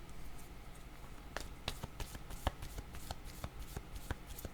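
Tarot cards being shuffled by hand, a run of crisp riffling snaps and soft flicks in irregular bursts, close and quiet with no talking.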